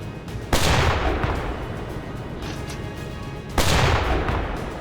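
Heavy ship guns firing in the submarine game UBOAT: two loud, booming blasts about three seconds apart, each with a sharp onset and a long rumbling tail over a dense battle background.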